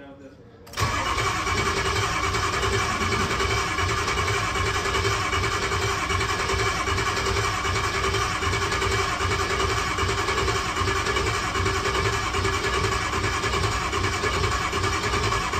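A Ford 6.0 Powerstroke diesel cranks briefly and then catches. It settles into a loud, steady, rumbling idle that runs unbroken for the rest of the stretch.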